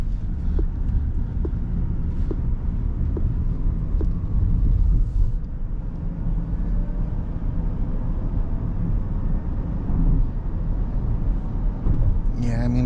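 A 2023 Rivian R1S electric SUV accelerates on the road, heard from inside as a low steady rumble of road and wind noise with faint thumps, fairly quiet and without engine sound.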